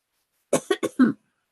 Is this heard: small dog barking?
no